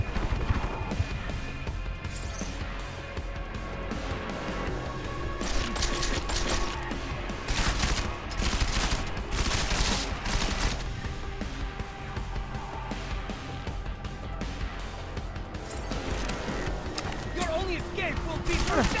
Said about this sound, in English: Keep shooting him, just in case.